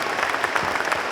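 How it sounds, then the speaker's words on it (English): A short burst of dense, steady applause from an audience at a Vermont high school jazz performance, a sustained wash of many hands clapping together, fairly loud throughout. "One more round of applause for families, friends,"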